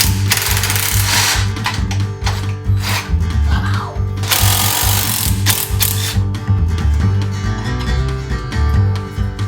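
A ratchet wrench bolts aftermarket A-arms and a gusset kit onto a Can-Am X3 Turbo RR, with loud, close, rapid rhythmic clicking that runs steadily with brief pauses and no talking.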